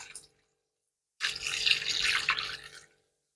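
Water pours into a pot of meat korma in a home kitchen, a single splashing stream lasting under two seconds that starts abruptly and then stops.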